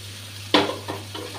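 Potatoes drop into a pan of fried onion and spices for a Bengali fish curry, lati mach er jhol, giving one sharp sizzling burst followed by a couple of softer stirring sizzles.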